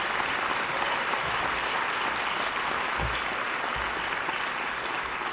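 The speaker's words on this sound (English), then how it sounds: "Let's give them all one more big round of applause." Sustained applause fills a senior award ceremony hall, a dense, even crowd clapping throughout with a few muffled low thumps, with no talk over it.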